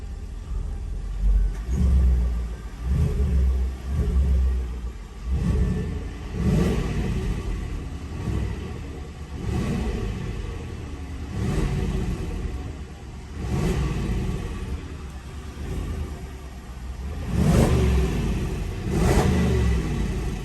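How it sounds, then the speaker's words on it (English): A 2020 Range Rover Sport SVR engine revs repeatedly in park in short bursts, rising and falling roughly every second or two, a deep close rumble with no talking. "I'll actually give the car a couple of revs."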